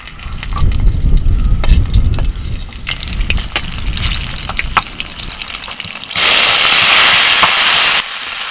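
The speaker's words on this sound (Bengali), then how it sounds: "শাকের মধ্যে ফোড়নে দিচ্ছি শুকনো লঙ্কা আর কাঁচা লঙ্কা।" Dried red and green chillies sizzle loudly in hot tempering oil with freshly picked greens, a steady crackling fry with occasional stirring knocks, then a sudden surge of louder hissing near the end before settling back down.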